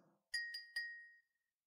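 Three light taps of a paper stick against a glass mug, thinner and softer clinks with a short ringing tail, heard alone.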